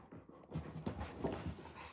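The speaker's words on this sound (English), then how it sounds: "My dog gets bored." A pet dog panting indoors at a house on a bitterly cold day, quick rhythmic breaths close to the microphone, soft and steady throughout.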